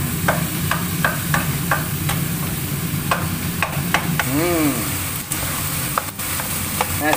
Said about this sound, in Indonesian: Kacau kan.